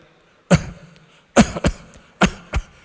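A voice imitates a cough: one sharp hack, then two quick pairs of short coughs, close and fairly loud with pauses between.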